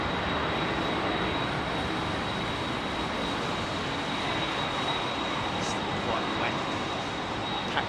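Airliner rotating on takeoff from Heathrow runway 27R, a loud steady roar of jet engines filling the scene without letup, close and continuous with a faint high whine above.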